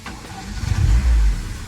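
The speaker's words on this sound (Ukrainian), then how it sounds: "Ось так автомобіль ми завели." A VAZ 2106 car engine turns over and catches, a low rumble swelling to a brief rev before settling, close by with no talking.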